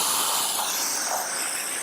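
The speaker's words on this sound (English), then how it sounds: "and then pressure wash it off" A pressure washer sprays a 2017 C7 Corvette Stingray, rinsing off a Gyeon Wet Coat SiO2 coating: a steady, close, bright hissing spray that runs continuously with no talk.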